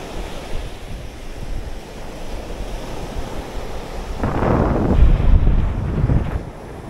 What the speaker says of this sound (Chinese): 今天浪太大了，不适合洗澡